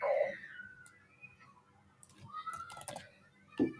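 Code is typed on a computer keyboard as a quiet, close series of irregular key clicks and taps with short pauses between bursts, ending in a sharper click.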